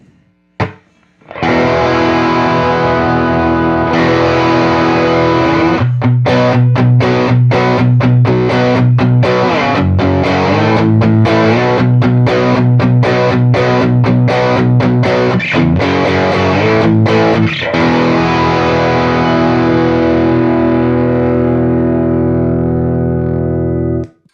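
An electric guitar through a Rat distortion pedal plays loud, sustained chords and choppy stabs, thick and saturated, ringing out alone and fading at the end.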